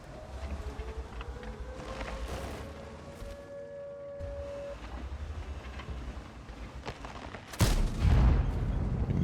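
A tank cannon fires in an armored combat video game, a sharp loud blast near the end ringing out over a steady rumbling engine drone and scattered distant battle noise.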